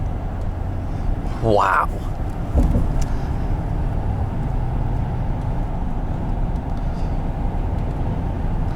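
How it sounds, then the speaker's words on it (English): A turbocharged V8 pickup truck engine rumbles steadily and low throughout, with a brief exclamation from a person early on. "And a ton of torque from this turbocharged V8."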